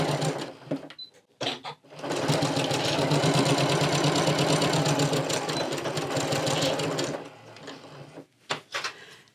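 A sewing machine stitches a quarter-inch seam joining quilt pieces, running steadily for about five seconds after a few short starting bursts, then stopping with some brief handling clicks close by.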